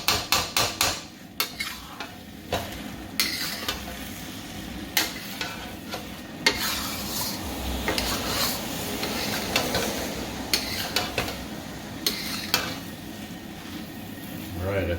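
Drunken noodles stir-frying in a wok, with constant sizzling broken by repeated sharp scrapes and clanks of a utensil against the metal in an irregular rhythm.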